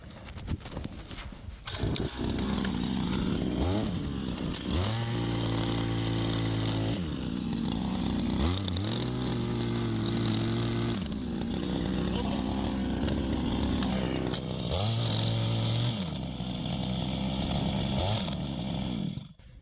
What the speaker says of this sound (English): Use the jackhammer.